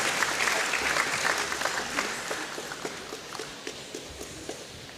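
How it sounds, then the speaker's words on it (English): Applause from a hackathon crowd for the winning team starts full and dense, then thins out into scattered individual claps as it fades. "Please give them a round of applause."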